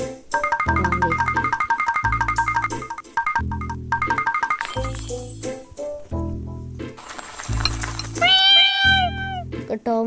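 A cartoon cat meows in a brain-teaser puzzle video game, with short bright meows set among repeating electronic game jingles and effect sounds, and someone talks over the game audio.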